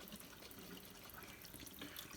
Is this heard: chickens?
no